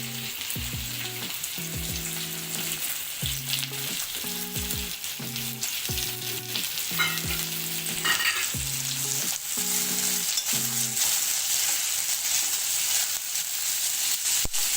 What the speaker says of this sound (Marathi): कांदा लाल होईपर्यंत भाजायचा आहे।